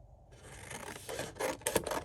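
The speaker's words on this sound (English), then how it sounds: "All right, so we are gonna cut this apart." Scissors cutting apart a paper swatch chart of Caran d'Ache Supracolor watercolor pencil swatches, a few quiet close snips and rasping slices, faint and brief.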